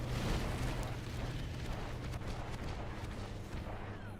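A heavy explosion in the action role-playing game Diablo 4 roars as a dense, sustained rumbling blast with crackling debris, filling several seconds at steady loudness without any speech.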